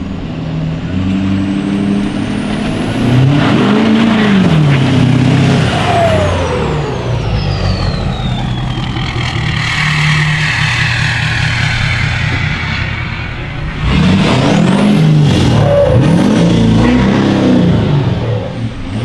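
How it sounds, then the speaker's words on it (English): A tuned diesel pickup truck with an Industrial Injection XR2 turbo and added boost accelerates in loud, close revving surges, with rising whine and turbo whistle sweeping upward, easing off mid-clip, then pulling hard again. "It makes more turbo whistles. It makes it makes a lot more turbo-y noises."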